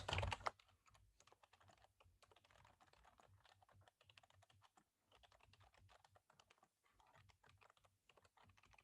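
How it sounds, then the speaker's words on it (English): Fingers type on a computer keyboard in a steady run of quiet, close key clicks with a few brief pauses, with no voices heard after a short louder burst at the start. "So I'll type here"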